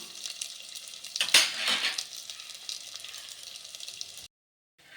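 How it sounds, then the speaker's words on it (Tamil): Sliced onions sauté in a pan for prawn biryani, giving a close frying sizzle with a few utensil scrapes and stirs. It ends in a brief moment of silence. "வெங்காயம் நல்லா வதங்கட்டும்."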